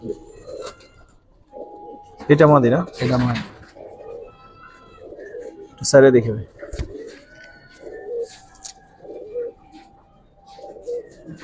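Giribaz pigeons give soft, low cooing calls at intervals in a quiet loft, while people talk nearby.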